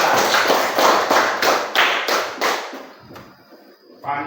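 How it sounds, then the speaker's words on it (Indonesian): Schoolchildren in a classroom clapping in a quick rhythmic pattern of sharp, close bursts that slow and fade near the end before one last clap. "Tepuk tangan untuk Mbak Apri, Mbak Oci, dan Mbak Kalista yang sudah paham tentang bahasa."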